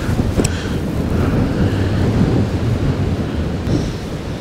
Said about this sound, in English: I don't know if you can hear that, but that is the wind.